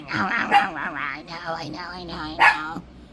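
Puppy whimpering and yipping in short, high bursts close by, mixed with a person's soothing voice speaking throughout, with a louder yelp near the end.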